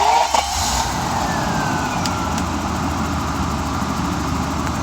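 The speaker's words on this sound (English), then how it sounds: "So I'm going to crank this V12 baby up." A BMW V12 engine is started and then runs at a steady idle, a loud, close, even drone with a faint whine that carries on without a break.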